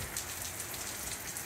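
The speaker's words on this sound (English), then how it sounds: "It's actually raining here." Steady rain falling outdoors during work on a 1967 Triumph T100C barn-find motorcycle, a soft, even hiss of drops on surfaces that stays constant and fairly quiet throughout, with no talking.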